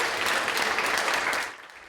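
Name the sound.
researchers cheering and applauding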